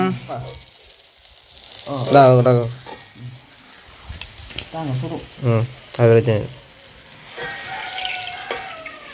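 Flatbread rotti frying in hot oil in a Jaffna-style kitchen, a steady sizzle running under frequent close speech.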